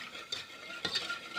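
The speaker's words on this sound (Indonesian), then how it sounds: "Kita aduk-aduk dulu biar maizenanya juga larut" A spoon stirs a cornstarch mixture for es doger, a sweet Indonesian iced drink, scraping the bowl in two quick strokes amid a faint steady background hiss, no talking.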